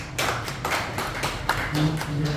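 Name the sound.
audience applause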